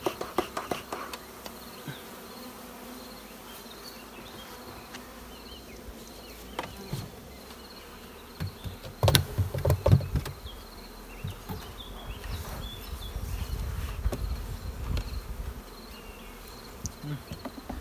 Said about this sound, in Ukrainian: там деяка бджола піднімається, злітає. Це злітає, як правило, льотна бджола.